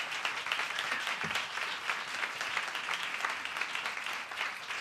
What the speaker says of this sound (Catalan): Un fort aplaudiment per l'Uri